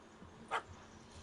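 A single short, muffled bark from a dog in The Witcher 3: Hearts of Stone rises briefly out of faint background noise.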